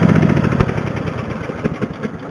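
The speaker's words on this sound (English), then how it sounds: "You're not supposed to be riding a lawnmower on the highway." A riding lawn mower's engine idles near a highway, a steady, close, mid-pitched mechanical drone with slight pulsing and no talk over it.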